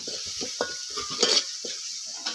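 Tempering crackling and being stirred in a pan for a spicy kat amti curry, a steady close sizzle broken by short scrapes and clinks of a spoon against the metal.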